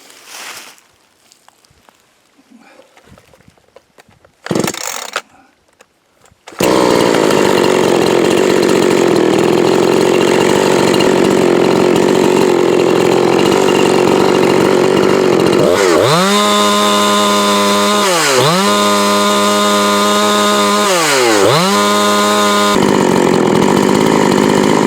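A Husqvarna 345 chainsaw converted to a 350, used as a firewood saw, starts after a few quiet handling noises and runs loud and close, holding a steady high roar with several rhythmic revving swells near the end.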